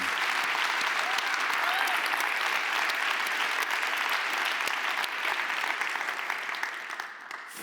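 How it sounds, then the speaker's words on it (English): Sustained audience applause fills a closing ceremony hall, a dense, steady wash of many hands clapping that carries loudly throughout before thinning slightly near the end. "let's applaud to our colleagues from Bulgaria and Ukraine"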